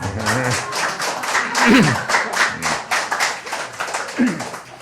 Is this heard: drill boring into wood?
no